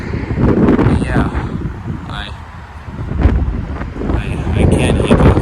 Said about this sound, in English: the wind and the noise of the cars are just drowning the music of the music box